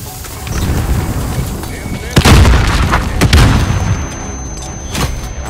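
A grenade goes off in Call of Duty Modern Warfare with loud, close booms amid a crackle of surrounding gunfire, while voices talk over the combat.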